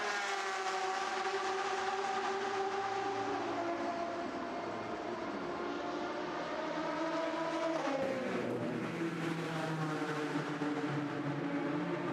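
The Alpine race car number 36 rejoins the track at the 24 Hours of Le Mans 2019, its engine a steady, continuous whine that rises in pitch as it accelerates, heard alone at a moderate distance.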